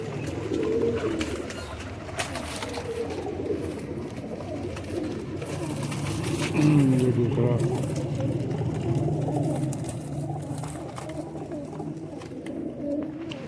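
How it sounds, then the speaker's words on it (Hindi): Several high-flying pigeons coo in soft, repeated rolling calls close by, with someone talking over them at intervals. "वैक्सीनेटेड कबूतर हैं, किसी किस्म की टेंशन नहीं है।"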